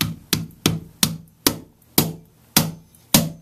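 A hammer taps a part back into place during a Maverick mod, eight sharp, evenly spaced knocks about half a second apart, loud and close, each decaying quickly, with no talking.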